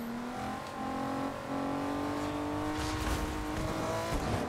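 A car engine in a video game drones steadily and rises in pitch as it accelerates, loud and close, with faint tire noise and no talking.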